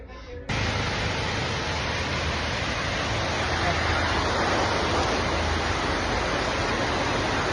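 A waterfall rushes in foggy Kodaikanal, a loud, steady broadband roar that starts abruptly after a brief moment and holds unbroken for the rest of the stretch, close and constant.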